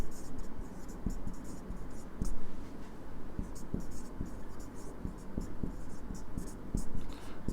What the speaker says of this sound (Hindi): एक लाइन और लिख दीजिए